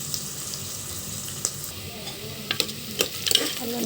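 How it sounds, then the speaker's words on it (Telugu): Curry leaves frying in a hot pan, a continuous sizzle with scattered stirring clatters and clicks that grow busier toward the end, close by. "ఇలా ఫ్రై అయ్యేటప్పుడు నేను కొంచెం కరివేపాకు వేస్తున్నాను."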